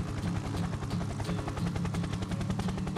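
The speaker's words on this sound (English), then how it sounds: "How long do I have to look at this fucking helicopter?" Helicopter in a video game with an arachnophobia theme, its rotor chopping in a steady, fast, loud pulse that runs the whole time, with no voices over it.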